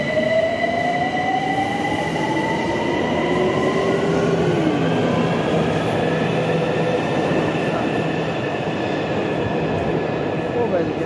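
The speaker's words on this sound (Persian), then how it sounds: "سوار مترو شدیم." Steady rumble of a Tehran metro train in motion, with rising and falling whine tones and faint wheel squeal, continuous and loud throughout.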